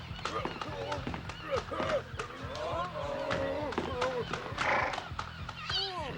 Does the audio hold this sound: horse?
yes